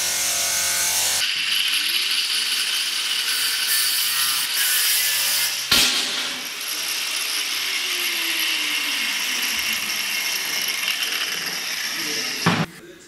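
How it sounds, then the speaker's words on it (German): Polishing machine buffing aluminium engine covers for a Honda Bol d'Or cafe racer, a loud steady whirring grind that runs throughout with a few sharp knocks and clatters, and no talking. "Und hier werden die Alu-Deckel halt wieder auf Hochglanz poliert."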